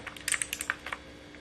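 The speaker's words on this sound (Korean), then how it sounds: "청축이 찰칵찰칵 거리는 클릭음이 인상적이고" Mechanical keyboard with blue switches clicking, a quick run of sharp, crisp keystrokes close by, irregular in rhythm, then trailing off into quiet.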